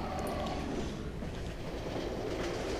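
Steady rumbling rattle of a train rolling along its track inside the horror video game Cry of Fear, a continuous mid-loud clatter with no talking over it.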